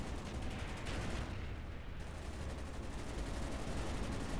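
Mortar fire in Call of Duty: Black Ops, a dense wash of explosions and gunfire rumbling continuously through the whole stretch, loud and close with a brief dip in the middle.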